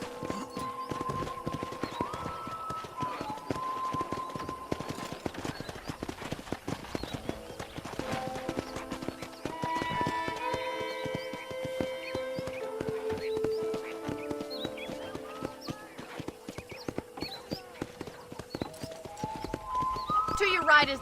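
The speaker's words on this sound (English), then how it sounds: "I picked out a fine horse for you." Horse hooves clip-clop at a steady walking rhythm on a ranch in the Red Dead Redemption video game, continuing throughout under music, with voices talking over the hoofbeats.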